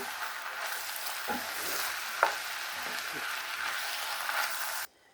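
Crushed tomatoes sizzle as they are stirred into a pot of taco soup. A close, steady frying hiss carries a few light utensil clinks and one sharper knock, then cuts off abruptly near the end.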